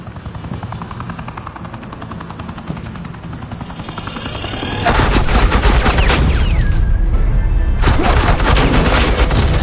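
Suppressing gunfire in a video game, rapid dense bursts of automatic shots erupting loudly over a whirring helicopter rotor drone, continuing without pause to the end.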